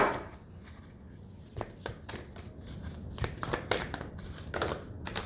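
Repeated quick riffling and soft slapping of tarot cards being shuffled close by, in several irregular bursts with short pauses between.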